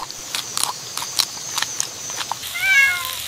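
A cartoon cat crying and meowing up close, a few soft taps and clicks first, then a drawn-out wavering meow near the end.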